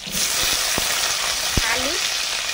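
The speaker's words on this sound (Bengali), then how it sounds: "সর্ষে তেল দিলাম, কালো জিরে, শুকনো লঙ্কা," Nigella seeds and dried chillies frying in hot mustard oil make a close, steady sizzle for the whole stretch, with a few light clinks and stirring knocks.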